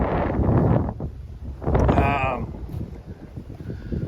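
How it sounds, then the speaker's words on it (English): Strong wind buffets the microphone outdoors, a loud steady roar with gusty swells; a voice speaks partway through. "this wind is insane up here"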